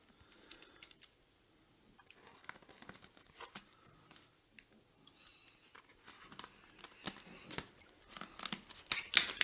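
Scissors snipping through material at close range, a string of quiet, uneven crisp cuts that grow more frequent and louder toward the end, with some rustling in between.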